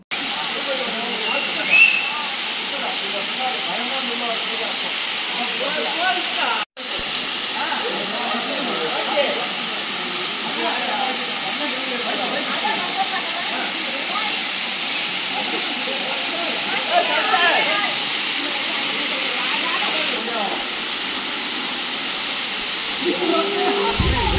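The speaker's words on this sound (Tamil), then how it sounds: "ஆந்திராவில் பார்க்குற 5வது வாட்டர் ஃபால்ஸ் இது." Kailasakona waterfall in Andhra Pradesh: a steady, close, broadband rush of falling water, constant and loud throughout, with a short break early on and a faint voice in the background.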